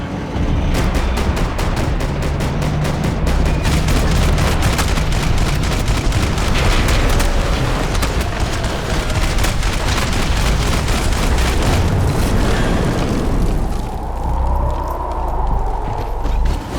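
Rapid bursts of gunfire in the video game Max Payne 3 crackle densely for most of the stretch, loud repeated shots layered over a busy mechanical din, easing off near the end.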